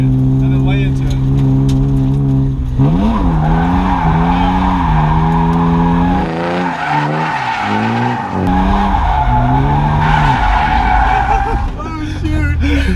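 A Nissan Skyline GTR R32 drifting with the clutch kicked, its tires skidding and squealing in long, continuous wavering tones over a loud, steady engine roar, with people talking throughout.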